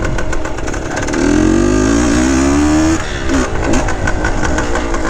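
A 1970 Yamaha RT1 360 two-stroke motorcycle engine runs close by, revving up from about one second and holding a steady, loud climbing pitch before easing back and idling roughly.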